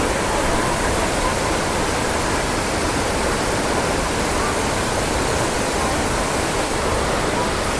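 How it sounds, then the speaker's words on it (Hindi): Water pours down a waterfall among slippery, moss-covered rocks at Mainpat in Chhattisgarh, a loud, close, unbroken roar of rushing white noise that stays steady from start to finish. "वो जो वाटरफॉल से पानी गिर रहा है"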